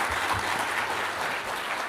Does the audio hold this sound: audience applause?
yes